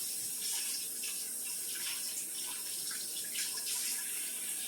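Water pours steadily into a crockpot for bone-in chicken soup, a continuous close splashing stream with no talk over it.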